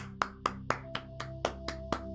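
Sparse hand claps, about nine of them in an uneven rhythm, from a single person nearby over a low steady hum.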